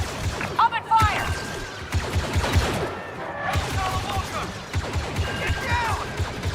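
Blaster fire crackles in bursts during a Star Wars real-time strategy battle, with sharp overlapping shots scattered across the scene while voices bark orders over the fighting.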